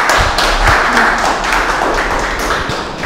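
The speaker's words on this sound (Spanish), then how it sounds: "Otro aplauso." Loud, dense applause from an audience at a Rubik's cube competition, steady clapping throughout with a few scattered thumps.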